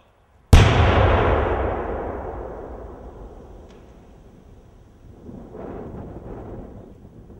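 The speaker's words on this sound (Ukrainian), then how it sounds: "настав момент істини вибух" A single sudden blast from a controlled detonation of an artillery shell booms out, followed by a long rumbling decay that fades over several seconds, with faint distant noise afterward.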